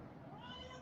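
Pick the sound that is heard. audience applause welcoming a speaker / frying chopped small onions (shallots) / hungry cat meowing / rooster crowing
hungry cat meowing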